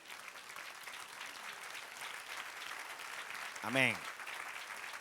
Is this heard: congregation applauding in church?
yes